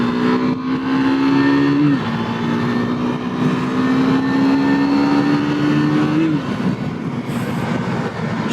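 A 2022 KTM 390 Duke single-cylinder motorcycle engine droning loudly on a test ride, pitch climbing steadily through the gears with two quick drops at upshifts, continuous and close under wind noise.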